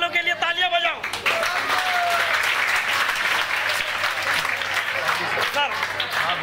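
A group of children clap and cheer together after a pizza-making event, a loud, sustained burst of applause that starts abruptly after a voice and carries on with scattered voices mixed in.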